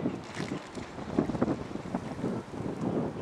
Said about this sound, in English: Oh, this wind's terrible, absolutely terrible.